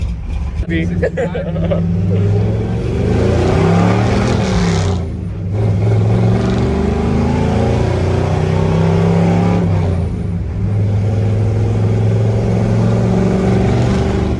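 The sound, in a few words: Chevrolet C20 truck with upgraded cam accelerating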